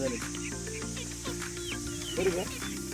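Chickens cluck and murmur softly at close range on a farm in April heat while a low, steady hum runs underneath.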